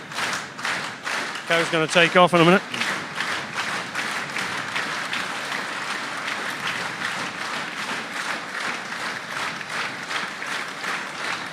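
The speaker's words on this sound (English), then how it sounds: "You can hear the clapping in the background." Audience applause rolls steadily through the ring at a UK dairy cattle show as a champion cow is crowned, sitting under continuous close commentary from a man on a microphone.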